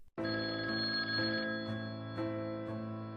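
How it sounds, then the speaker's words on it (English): Telephones ring in a police station, a continuous, bright electric bell tone starting abruptly and pulsing steadily throughout, fairly close and alone. "The police station buzzed with activity, phones ringing off the hook."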